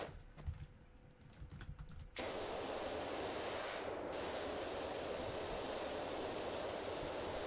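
In Powerwash Simulator, a pressure washer cuts in after about two seconds of quiet clicking and then sprays as a loud, steady hiss that runs to the end.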